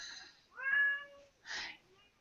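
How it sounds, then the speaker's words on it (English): Cat meowing outside a door, two faint, muffled meows, the first drawn-out and tonal, the second shorter and breathier, in an otherwise quiet room. "There's a cat outside my door begging to come in."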